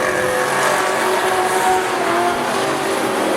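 A Holden 253 V8 race car roars at a speedway oval, its engine note loud and sustained at full throttle with a steady, dense mechanical drone throughout.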